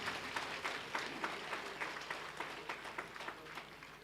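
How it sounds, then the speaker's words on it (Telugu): A church congregation at a feast-day program claps together, a quiet rhythmic patter of many hands with regular, evenly spaced beats, heard from some distance and fading slightly toward the end. "మనమందరము కూడా రెండు చేతులెత్తి చప్పట్లతో ఆ భగవంతునికి అభినందనలు"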